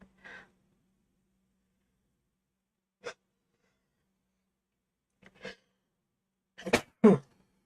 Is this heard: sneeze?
yes